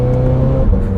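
Supercharged, modified 2017 Toyota 86 engine droning loudly and steadily under load, a strong close-up rev with a dense low hum throughout.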